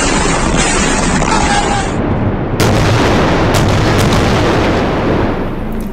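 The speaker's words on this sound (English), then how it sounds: "You are looking at Israeli missiles exploding in Gaza overnight." Israeli missiles explode over Gaza at night, heard as a loud, continuous rumbling roar with a sharp blast partway through and wind buffeting the microphone.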